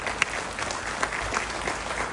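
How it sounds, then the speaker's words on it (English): Loud, sustained applause from a crowd honouring Conrad Sangma, a dense, even wash of clapping with a few sharper claps standing out, filling the whole stretch without a break. "We need a real loud round of applause for Conrad Sangma."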